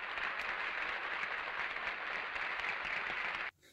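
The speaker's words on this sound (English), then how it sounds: "here's your applause" Steady applause from a crowd, dense and even clapping at moderate volume that cuts off abruptly near the end.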